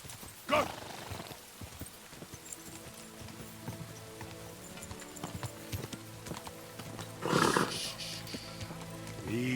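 Horse hooves clip-clop in a medieval game world, Kingdom Come: Deliverance, with two loud snorting bursts near the start and again later, over a quiet bed of steady footfalls.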